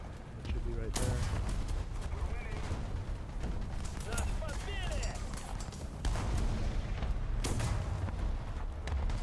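Tank gunfire and shots bouncing off armor in War Thunder gameplay, with booming cannon reports and sharp impacts over a dense, continuous battle rumble, and a person talking throughout.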